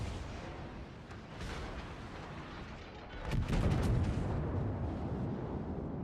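Naval guns fire in the World of Warships video game: a loud, rumbling broadband blast arrives around the midpoint and swells into a sustained heavy roar over a constant background rumble, with no talking.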